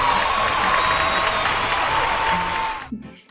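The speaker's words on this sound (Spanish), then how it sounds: "Bueno, un aplauso, lo has conseguido." A studio audience applauds loudly for a scientist guest on a talk show, a thick burst of clapping and cheering that holds for nearly three seconds before cutting off abruptly, followed by a brief sound.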